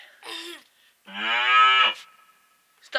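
A person imitates a cow with two close, loud mooing calls, a short one followed by a longer sustained low moo, with quiet gaps between and a faint sound at the end.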